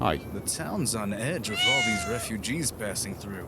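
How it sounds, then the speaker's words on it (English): A cat in the Fallout video game meows loudly and repeatedly, drawn-out wavering cries running beneath and between a man's spoken dialogue. "That's a cat who knows how to meow with some gusto."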